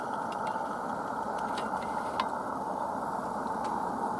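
An Accucraft Caradoc live steam model locomotive running, a steady close hiss with faint ticking and light mechanical clicks throughout.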